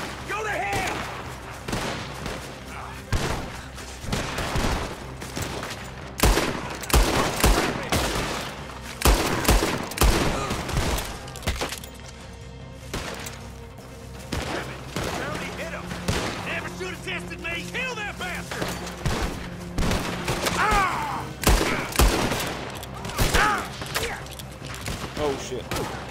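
Gunfire in Red Dead Redemption 2 comes in scattered loud cracks and bursts, some close and sharp, others further off, mixed with game ambience while someone talks in between.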